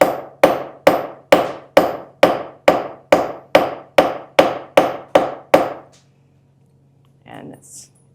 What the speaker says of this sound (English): Keep it that way as you're hammering.